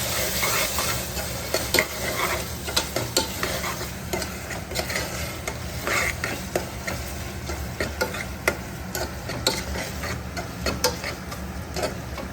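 Spice masala frying in a pan for boti curry, with a constant sizzle and repeated scraping and clicking of a spoon stirring close by.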